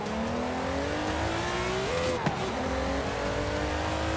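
A Lamborghini in Forza Horizon 5 accelerates hard, its engine note climbing steadily in pitch, dipping briefly at a gear change and rising again, loud and close with no talk.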